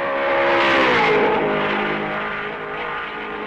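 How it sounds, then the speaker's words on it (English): A 1955 Ferrari race car at Spa accelerates hard, its engine note rising and swelling loudly before easing slightly as it carries on, with no talk over it. "Trintignant guns his Ferrari and avoids being overtaken by the leader for the second time"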